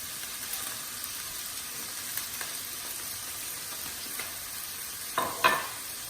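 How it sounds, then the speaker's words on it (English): Chopped white onion frying in a pan for Tunisian tagine, a soft continuous sizzle with occasional stirring scrapes, then two sharper scrapes toward the end. "I'm just going to stir this around."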